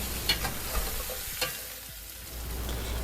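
Dungeness crab being tossed and stir-fried in a hot pot over high heat, steady sizzling and frying with intermittent scraping and clacking of a utensil against the pot, fairly close and without talk.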